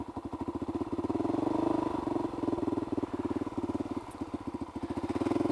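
A Kawasaki KLR motorcycle engine runs steadily throughout, its loud close thumping pulses forming a fast, even rhythm with a brief slight rise in revs, and nobody talks over it.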